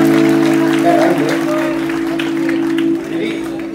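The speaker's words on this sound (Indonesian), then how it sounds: "Tepuk tangan sekali lagi paling besar buat kalian." A live band concert crowd at a Jakarta music venue claps and applauds under a man's speech, the clapping loud at first and then fading.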